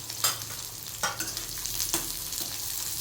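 Chana dal frying in oil in a pan as small onions are added, giving a steady soft sizzle broken by three brief stirring scrapes, fairly close and with no talk.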